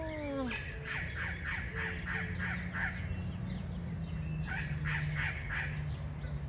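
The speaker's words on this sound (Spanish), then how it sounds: "Esos son los pericos, loros, cotorros" A flock of parakeets, parrots or small wild parrots gives harsh, raspy repeated calls in two bursts, loud and fairly near over steady low background noise.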